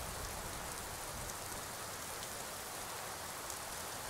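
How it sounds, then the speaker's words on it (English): Steady rain pours in the cold northern mountains of the video game Skyrim, a dense, even hiss of drops on surfaces that continues unbroken and fairly loud with no talk over it. "But this rain is just gonna soak into it."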